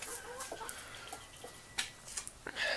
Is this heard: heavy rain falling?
no